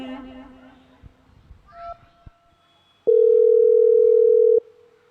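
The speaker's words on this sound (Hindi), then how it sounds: "जय कुणाल को फोन लगाता है।" After some faint background sounds, a single steady telephone tone sounds loud and clear for about a second and a half, then stops.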